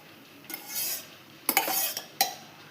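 Egg biryani ingredients being stirred and mixed with black pepper powder in a pot, with a few scraping, clinking spoon strokes in separate bursts, close and moderately loud, no voices.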